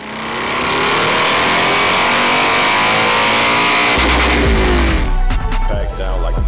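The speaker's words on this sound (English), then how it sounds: "let me show you the bike" A 2024 Harley-Davidson Road Glide engine drones loudly and steadily, then a deep rumbling rev surges in near the end, close and powerful.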